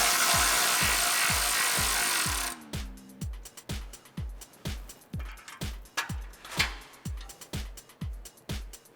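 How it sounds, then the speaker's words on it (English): A 15mm wrench loosens the exhaust clamp on a Jeep Wrangler JL's axle-back exhaust, giving a steady run of crisp, evenly spaced ratcheting clicks up close, after a brief burst of broad noise at the start. "And with our 15mm, we're gonna go ahead and loosen up our clamp."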